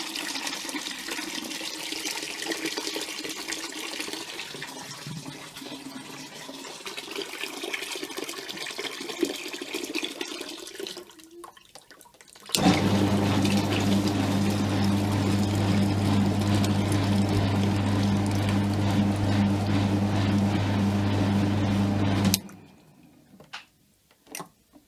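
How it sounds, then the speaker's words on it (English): Water being poured from a bucket while rinsing a Carpigiani ice cream machine, heard as a steady loud gushing flow that starts abruptly and runs for about ten seconds after softer splashing and trickling. "The third bucket of the water."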